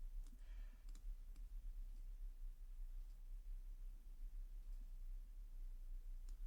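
Light, sparse keystrokes click on a computer keyboard, a few quick taps followed by scattered single clicks, quiet and close over faint background hiss.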